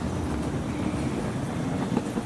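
KLIA Ekspres airport express train at an airport station in Kuala Lumpur, a steady rumbling rail roar heard at moderate distance without speech.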